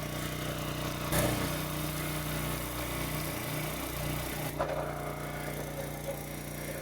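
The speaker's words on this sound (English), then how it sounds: "This is a 28-ton hydraulic ram, and it makes very quick work of hardwood." Engine of a 28-ton hydraulic log splitter running steadily while the ram splits hardwood firewood, with a couple of sharp cracks and falling pitch sweeps from the hydraulics under load.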